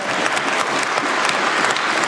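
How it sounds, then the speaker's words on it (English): Backbenchers in the Scottish Parliament give the First Minister loud, sustained applause during First Minister's Questions, a dense, continuous clapping that fills the chamber with no one speaking. "Backbenchers giving the First Minister thunderous applause there"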